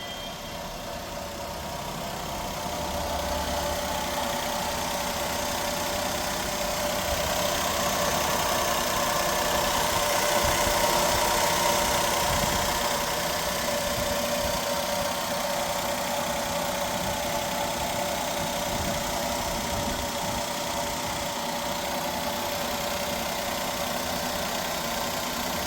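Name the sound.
petrol car engine idling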